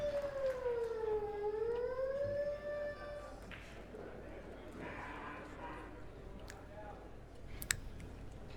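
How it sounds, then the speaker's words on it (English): A siren wails with a rising and falling tone for a few seconds inside a pool hall at a 9-ball match, fairly faint, with a commentator's voice talking over the quiet room afterward. "I just heard a siren go off"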